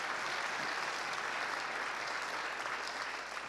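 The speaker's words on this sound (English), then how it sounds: "Liz Cheney getting a round of applause at the Kennedy Institute." A crowd at the Kennedy Institute gives Liz Cheney a round of applause, a thick, continuous roar of clapping that stays steady throughout and tapers slightly at the end.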